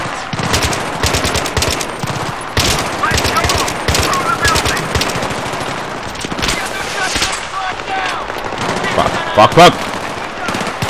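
Battlefield 3 campaign combat rattles with dense bursts of automatic gunfire and single shots, loud and close, in rapid irregular volleys throughout, with a voice cutting in briefly once.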